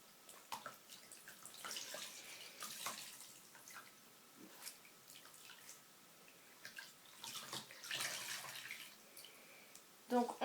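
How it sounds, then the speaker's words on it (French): Hand-washed clothes being wrung out over a basin, water splashing, trickling and dripping in uneven bursts, close and quiet, with a faint voice underneath. "vous essorez les vêtements de façon à ne pas mettre de l'eau partout"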